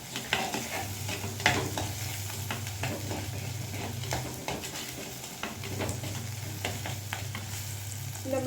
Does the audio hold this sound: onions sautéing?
yes